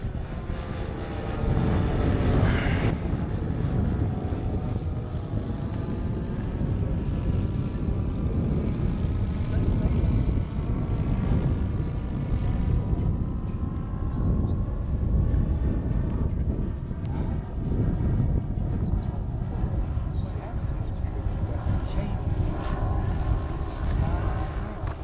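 A Boeing B-17 bomber flies on its radial propeller engines, producing a loud, steady, droning roar that fills the whole stretch, with wind buffeting and occasional faint voices beneath.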